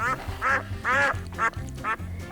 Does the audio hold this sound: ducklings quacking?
yes